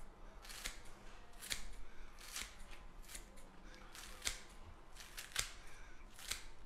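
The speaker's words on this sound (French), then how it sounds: "je vais venir avec un ciseau couper des petites lanières" Scissors snip leek into thin strips, giving about ten sharp, crisp cuts at an uneven pace, close and fairly quiet, with no talk.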